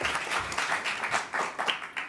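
Audience at a university question time event applauds with steady, fairly close clapping, a brief continuous patter without talk.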